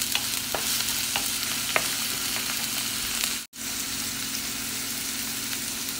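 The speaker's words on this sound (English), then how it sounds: "Stir till they are golden brown." Onions frying and being stirred in a pan until golden brown, with a steady loud sizzle throughout and a few soft scraping stirs, briefly cut off once midway.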